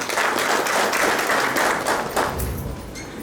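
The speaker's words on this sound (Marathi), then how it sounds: "आपण त्यांचं खऱ्या अर्थाने टाळ्या वाजवून स्वागत केलं पाहिजे" An audience of parents applauds to welcome teachers at a school open-house programme, a dense, steady wash of many hands clapping from across a hall, thinning slightly toward the end.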